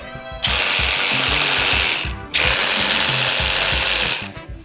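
A power tool spins bolts off a Range Rover in two long bursts separated by a short pause, a loud close whine with ratcheting mechanical chatter underneath.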